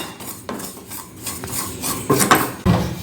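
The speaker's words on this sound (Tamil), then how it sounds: "நல்லா வாசனை வர அளவுக்கு இதை நான் வறுத்து எடுத்துக்கிறேன்" Unroasted semolina (rava) is dry-roasted in a pan, a close, gritty scraping of a spoon against metal in uneven strokes with occasional clinks, and no talk.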